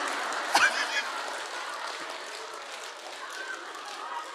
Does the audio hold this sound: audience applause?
yes